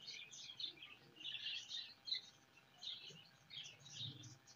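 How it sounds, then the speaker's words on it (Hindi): Australian parrots and budgerigars in cages at a Sunday bird market chirp and tweet in busy overlapping bursts, bright and fairly faint, with soft low murmuring underneath throughout. "ये सबसे पहले ऑस्ट्रेलियन तोते हैं।"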